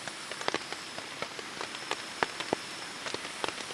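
Rain falls steadily outdoors at a military urban warfare training village, a continuous hiss broken by scattered close drips and patters, with no voices over it.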